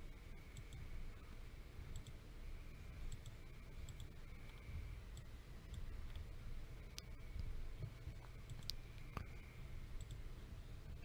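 Computer mouse clicks, sharp isolated ticks at irregular intervals over about eleven seconds, faint and close against a steady low background hum.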